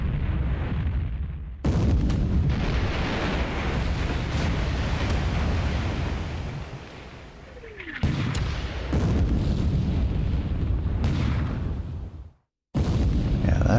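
Heavy naval gunfire booms in a warship video game as shells strike the battleship Fuso: loud, repeated, rumbling salvos and impacts that roll on with a brief silent gap near the end.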